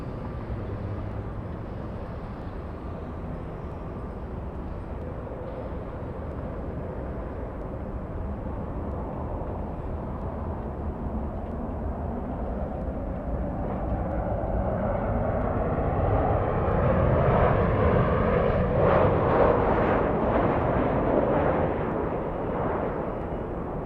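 A Qantas Boeing 787 Dreamliner from Brisbane approaching Los Angeles airport, a steady broad jet roar that swells louder toward the end as it nears, with no talk over it.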